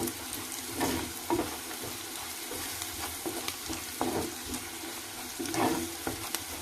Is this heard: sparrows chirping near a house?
no